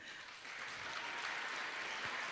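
A graduation audience at a Faculty of Commerce ceremony applauds after names are read, a faint, distant wash of steady clapping with no talk.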